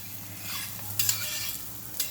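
Thalipeeth, a flatbread made from fasting flour, sizzles gently in a little oil on a pan, with soft steady frying hiss and a few brief clinks and scrapes of a spatula, no voices.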